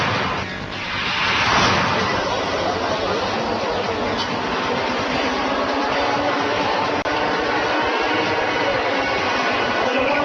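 Racing karts roar through a 15-lap race at the JK Tyre National Karting Championship 2012. A loud, continuous engine drone fills the whole stretch, swelling slightly near the start as the karts pass close.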